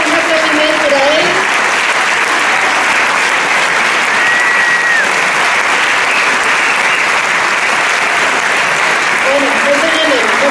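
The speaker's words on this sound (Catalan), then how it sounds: "un aplaudiment per a ell" Applause at a 20th-anniversary celebration, a steady sustained clapping from a crowd that fills the whole stretch, with brief voices calling out in it.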